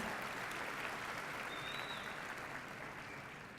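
A dense crowd applauds faculty and staff at a UNM Raza graduation ceremony, an even sustained wash of clapping that slowly tapers, with a brief whistle partway through.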